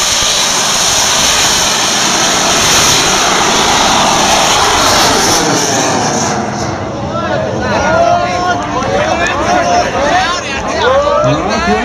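Bamboo rocket (bung fai saen) launches at a rocket festival in Ban That, Waritchaphum, Sakon Nakhon, giving a loud sustained roaring rush that swells and fades, with crowd chatter and whistles around it throughout.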